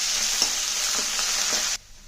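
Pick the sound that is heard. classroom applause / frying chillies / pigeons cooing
frying chillies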